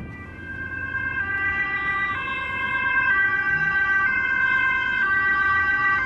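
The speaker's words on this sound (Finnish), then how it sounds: "Ambulanssi." An ambulance siren wails through city traffic near tram rails, its alternating two-tone pitch loud and close and rising slightly as it approaches, over a low rumble of road traffic.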